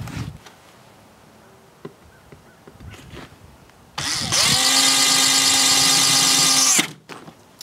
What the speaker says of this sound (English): hold the top, and then start drilling.